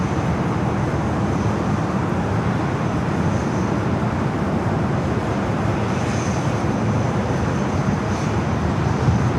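A jet aircraft passing at LAX airport gives a steady, loud, broadband roar that holds evenly throughout, with no voices.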